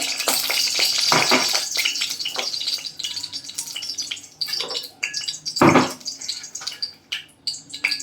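Spoonfuls of ghee heat in a hot pan over a low gas flame for semolina kheer, giving a soft, uneven sizzle. Sharper scraping and clinking stir strokes break in now and then, one louder clatter near the end.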